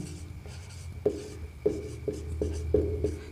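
Pen or chalk writing out a solution to a Class 8 maths problem, heard as a quiet series of rhythmic scratchy strokes with a tap at the start of each, with no talk.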